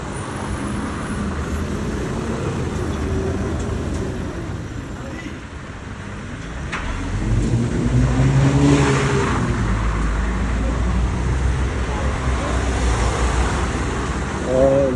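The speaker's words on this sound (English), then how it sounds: "Or if the noise from the cars is too loud" Cars roar steadily past on a busy street near Bratislava train station, traffic noise swelling and fading, while a person talks over the din.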